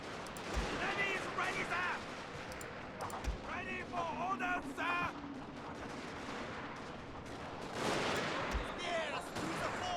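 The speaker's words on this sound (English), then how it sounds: "we got these gun towers shooting" Gun towers fire in a strategy video game, a steady rattle of synthetic gunfire with occasional low booms, mixed with game voice chatter and effects throughout.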